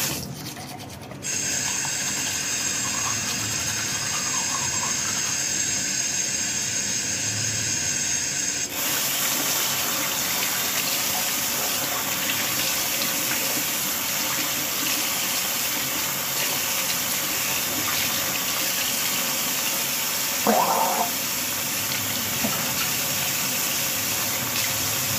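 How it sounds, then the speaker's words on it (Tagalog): Tap water runs steadily into a bathroom sink during morning tooth brushing, a continuous close hiss and gush that lasts throughout, with a brief knock near the end. "Pagmata, sa toothbrush."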